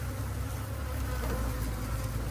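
Wasps buzzing around a bait trap for beetles and butterflies in Okeechobee, Florida: a faint, continuous drone of several insects hovering nearby, steady throughout.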